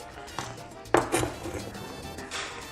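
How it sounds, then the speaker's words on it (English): A knife slices peppers for sofrito on a cutting board, making a few distinct, fairly close taps spaced irregularly against a quiet background. "And we just cut them in slices."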